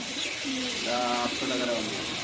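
Pigeons at a pigeon farm in Nabipur, Muradnagar, Comilla, coo in soft repeated phrases, moderately close, over a low background hum of the coop.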